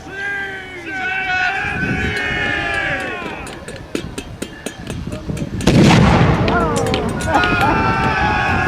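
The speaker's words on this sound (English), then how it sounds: "So the gun crews are going to try and soften each other up with cannon fire." Repeated sharp cannon blasts boom across an open field at a Battle of Killiecrankie reenactment, with a big burst near the middle, while voices talk and shout throughout.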